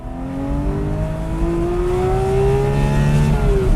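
A Porsche 991 Speedster's flat-six engine revs up hard toward 9,000 rpm, its pitch climbing steadily into a loud, metallic rasping wail as the car accelerates, with no talking.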